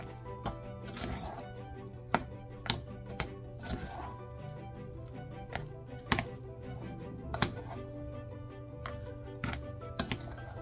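Sticky buttermilk biscuit dough being mixed by hand in a bowl for old-fashioned biscuits, with soft squelching and a series of sharp, irregular taps and knocks against the bowl over a low steady background hum.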